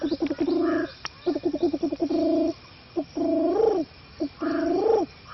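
Spotted dove cooing in several close, mellow phrases, each ending in a bending, dipping note, with short pauses between phrases.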